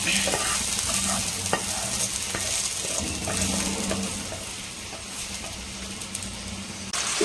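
Chicken and tomato sautéing in a pan, a steady bright sizzle with repeated scraping and tapping of a spoon stirring, close and continuous with no talk.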